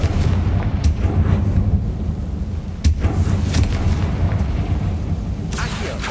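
The Confringo fire spell in Hogwarts Legacy goes off in deep, rumbling booms over a steady low roar of game sound. A sharp blast lands near the middle, with a few more impacts following.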